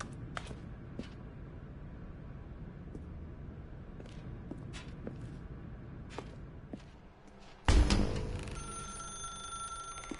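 A telephone ringing in the video game The Stanley Parable, faint repeated rings over quiet room ambience with soft footsteps, followed by a sudden louder burst near the end.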